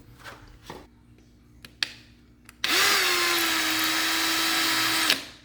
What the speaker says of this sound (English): I'll go ahead and drill my pilot holes.